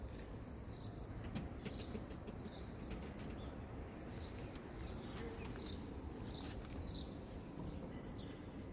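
Performing roller pigeons' wings flap in short bursts roughly every half second as they slowly descend to land, repeated about eight times over a steady outdoor background hum.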